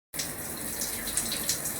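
Shower water running in a home bathroom, starting abruptly and continuing as a steady, close hiss of spraying water.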